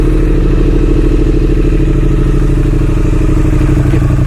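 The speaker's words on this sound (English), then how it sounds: "So we're going to start up the 18 first." 2018 Triumph Street Twin parallel-twin motorcycle engine running after startup, a loud close steady idle with a rapid even pulsing thump and mechanical clatter, no talking.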